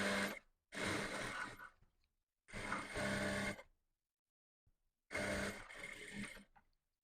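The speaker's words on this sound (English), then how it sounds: "So let's go and start sewing up on the machine, on the sewing machine." A sewing machine stitches fabric in three or four short bursts of steady whirring, separated by pauses of silence, close by.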